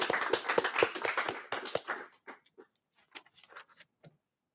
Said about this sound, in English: Let's give a round of applause for our magna cum laudes